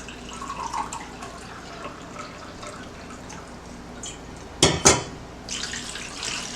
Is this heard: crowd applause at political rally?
no